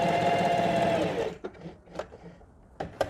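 A sewing machine stitches fabric for a mermaid-tail tote bag, running in one steady close burst of about a second before stopping, followed by a few faint small clicks.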